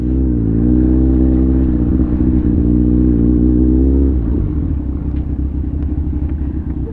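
A Kawasaki Ninja 1000cc motorcycle engine heard while riding: a loud, deep, steady drone that holds a high rev, then drops to a lower rumbling idle after about four seconds, close and alone.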